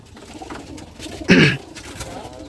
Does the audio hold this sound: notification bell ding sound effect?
no